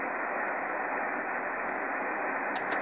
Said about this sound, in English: a fairly convincing demonstration of how much noise we're actually cancelling at the moment with this device